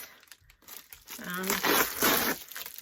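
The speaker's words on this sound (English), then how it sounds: "So we're just going to start opening stuff, okay? With my scissors." Crinkling and tearing of packaging close up as parcels of mascara wands are cut open with scissors, with rustling bursts and a person talking over the handling.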